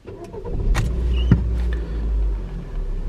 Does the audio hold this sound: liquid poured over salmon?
no